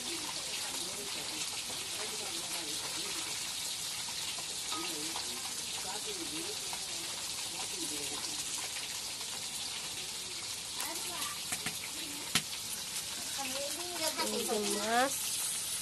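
Fish frying in a pan in a village kitchen, a steady loud sizzle throughout, with voices talking over it.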